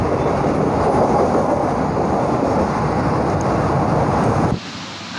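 A train at a Mumbai station at night, a loud, steady rumbling roar with faint rattling that runs for several seconds, then abruptly drops to a quieter hum near the end; no talking.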